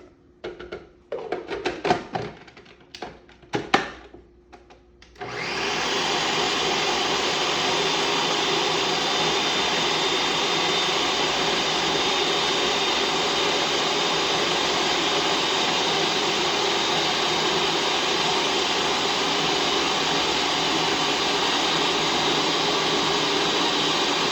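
A food processor blending figs: a few short pulses and clatters at first, then a loud, steady, even motor whir that runs unbroken for nearly twenty seconds, close up and without talk.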